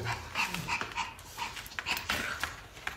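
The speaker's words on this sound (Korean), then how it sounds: "옛날에는 짖지도 않더니." A small white dog pants and gives short whimpering yips close by, breathy and continuous over three seconds with no one talking.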